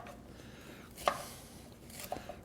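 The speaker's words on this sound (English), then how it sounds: "So I'll just chop these up a little bit." Red and green apples are chopped for apple crisp, giving a couple of faint, isolated knife taps on a cutting board against a quiet room background.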